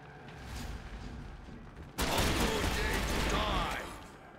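A sudden loud blast erupts midway as a gun fires in Hard West 2, followed by a sustained noisy burst and rumble that fades out after a low buildup.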